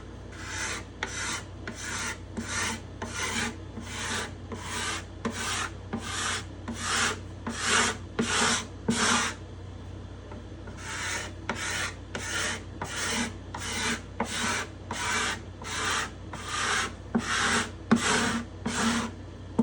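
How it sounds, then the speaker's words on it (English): A scraper drawn over the domed wooden top plate of a stringed instrument, a long run of close, evenly spaced rasping strokes with a brief pause midway, no talking. "Let me scrape off some."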